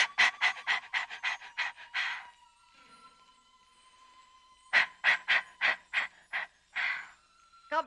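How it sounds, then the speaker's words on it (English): Rapid rhythmic panting from a breathing exercise comes in two quick bursts of short huffs, each ending in a longer exhale, with a quiet pause between and a faint tonal hum underneath. "I have to practice my breathing."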